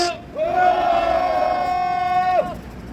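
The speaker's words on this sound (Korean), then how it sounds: "우리 모두를 위하여 격한 함성 3초간 힘차게 외치겠습니다" A crowd at an outdoor press conference lets out one long, loud sustained shout together for about two seconds, a unified roaring cheer that starts abruptly and cuts off cleanly.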